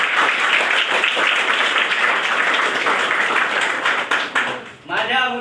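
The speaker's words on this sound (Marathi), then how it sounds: "तुम्ही सर्वांनी टाळ्या वाजवून त्यांचं अभिनंदन करावं" Audience at a youth program event giving sustained, dense applause that stays loud for several seconds, then thins out as a voice begins to speak at the end.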